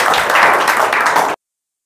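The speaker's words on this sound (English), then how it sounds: "Clap for them." Students in a spoken English classroom clapping together, a dense burst of steady applause close by that cuts off abruptly after about a second.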